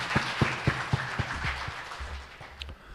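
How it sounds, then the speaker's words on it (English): Audience applause follows a talk on retail challenges, with a handful of distinct close claps standing out over a softer spread of clapping that fades within a few seconds. "and a big round of applause for our"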